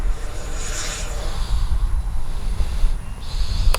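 FMS 70mm Yak RC jet flying before landing, a steady rushing turbine roar with a hissy high whine that swells slightly near the end under outdoor wind noise.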